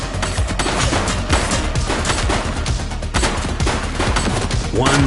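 Loud, rapid bursts of gunfire fill a shootout in The Precinct, a police patrol video game, with overlapping shots and volleys running continuously without a break.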